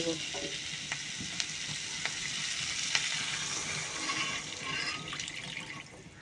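Water poured onto a spice paste frying in a pan brings a steady hiss and bubbling sizzle, with a few sharp ticks and spatters scattered through it, heard close and without any voices.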